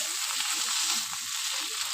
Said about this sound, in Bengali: ভাজা মাছটা দিয়ে এবার একটু ভালো করে নাড়িয়ে চাড়িয়ে দেবো।